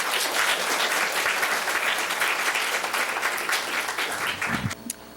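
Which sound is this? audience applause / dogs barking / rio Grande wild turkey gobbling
audience applause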